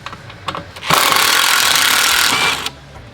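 A power driver with a T40 Torx bit spins out bolts from the front skid plate of an Ineos Grenadier, a steady loud whir lasting under two seconds, preceded by a few light clicks.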